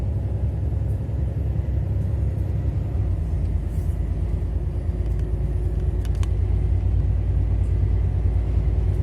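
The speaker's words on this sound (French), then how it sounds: "Je vais prendre ma vitesse de croisière à 90." A truck engine holds a steady cruise at 90 km/h on the road, a continuous low rumble with even road drone filling the cab, loud and unbroken, with no talking.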